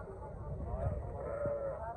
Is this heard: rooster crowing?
no